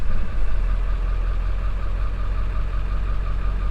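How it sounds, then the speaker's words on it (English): A 7.3 Powerstroke diesel truck engine running at a steady, loud low rumble throughout, a continuous idle with no voices. "Start the engine."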